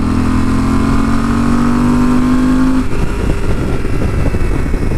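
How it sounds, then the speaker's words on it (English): A 2019 Yamaha Super Tenere ES motorcycle pulls a roll-on, its exhaust note rising steadily in pitch under load before easing off into a rougher, lower rumble, loud and close with no talk. "you could see or hear, I guess, what the exhaust note is like"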